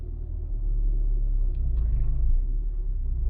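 A used car's engine rumbles steadily at close range as it reverses slowly, a low, continuous drone holding level throughout with faint mechanical ticks above it.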